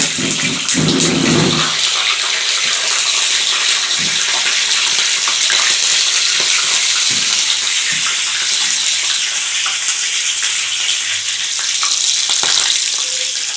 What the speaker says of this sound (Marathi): त्या गरम तेलामध्ये मी थोडीशी मिरची तळून